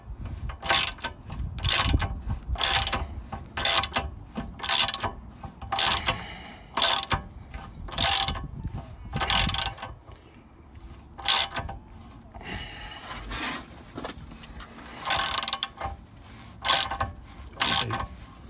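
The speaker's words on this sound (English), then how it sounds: "We're going to actually be torquing this bolt up to 120 Newton meters." A ratchet torque wrench tightening a bolt to 120 newton meters on a Ford Mondeo Mk4 rear suspension, repeated quick clicking strokes in rhythmic bursts with short pauses between, close and fairly quiet.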